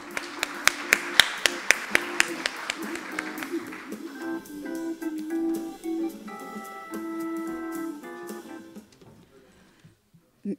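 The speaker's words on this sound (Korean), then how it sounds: "여러분 박수로 맞이해 주십시오" At a conference on carbon neutrality in the semiconductor industry, scattered claps greet a speaker walking onstage. The sharp individual claps last about four seconds, then give way to a short musical sting that fades out.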